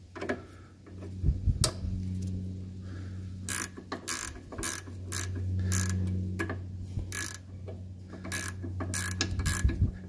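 A wrench ratchets on the suspension bolts of a 1982 Mercedes 300SD, producing repeated clicking ratchet strokes in irregular bursts over a low steady hum, close and moderately quiet, with no talking.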